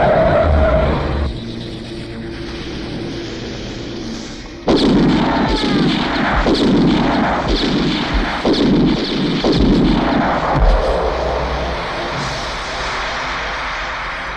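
A loud, busy barrage of gunfire-like blasts, repeated sharp bursts over a roaring, rumbling background that swells suddenly and continues.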